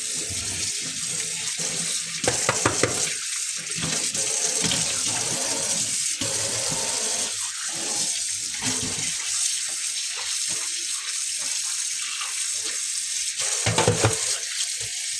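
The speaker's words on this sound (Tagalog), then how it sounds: "ating hugasan naman ngayon. Matanggal yung alat." Salted fish being rinsed under a running kitchen tap, a steady close hiss of flowing water with splashing and irregular bursts as the fish is moved through the stream.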